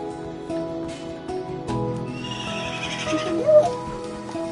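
A horse in the video game Minecraft whinnies with several short neighs over a busy layer of game music and effects, loud and close, with no talking.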